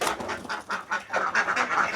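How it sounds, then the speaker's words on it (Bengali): Egg-laying domestic ducks quack nearby in a rapid, overlapping series of nasal calls that continue without a break. "এটা ডিম পাড়া হাঁস আমার এগুলি"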